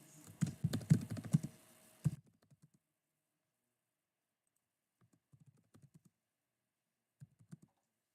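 Computer keyboard typing in a quiet room, a dense burst of close clicking keystrokes at first, then sparse faint clusters of taps after a long pause.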